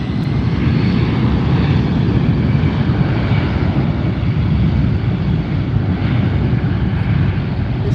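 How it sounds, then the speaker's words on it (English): A Delta Boeing 757-200 jet takes off at LAX, its engines giving a loud, steady, broadband roar that holds without a break from start to finish. "The 757-200 series is headed out bound for Boston."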